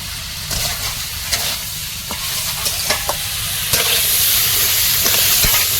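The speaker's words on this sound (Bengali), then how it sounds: "ভাজা চিংড়িগুলো এবারে দেবো লাউ শাকগুলো" Fried prawns and bottle gourd greens stir-fried in a hot pan, a steady loud sizzle broken by repeated clacks and scrapes of a spatula against the metal, growing fuller toward the end.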